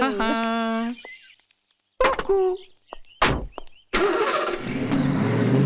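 A car engine cranks and catches with a thunk, then settles into a loud running hum close by, after a brief stretch of other sounds and a pause.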